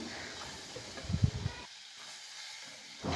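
Vegetables fry with masala in a pan, giving a steady sizzling hiss with a few louder crackles before it quiets down, then swells again at the very end.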